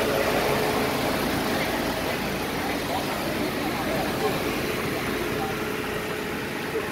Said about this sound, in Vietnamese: Đây, máy đang nổ đây mọi người nhé.